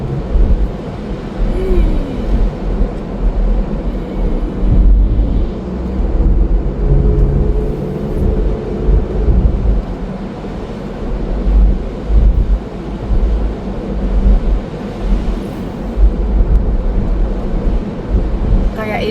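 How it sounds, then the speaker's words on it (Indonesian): Car driving on a snowy road in upstate New York, tires on snow giving a steady low rushing roar like surf, with wind buffeting throughout; a person talks over it at times. "nyetir di salju ini kita di atasnya kayak apa, kayak ombak"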